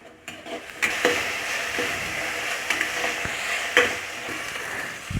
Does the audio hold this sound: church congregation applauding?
no